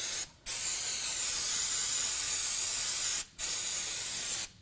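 Cleaner hisses from a spray can onto teardown parts of an LS engine oil pump. The spray is close and steady, broken by two brief pauses.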